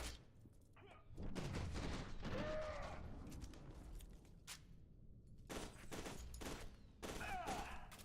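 Shotgun blasts in the video game F.E.A.R. 2, several loud, close bursts of gunfire spread across the stretch with ringing tails and game noise between them, no talking.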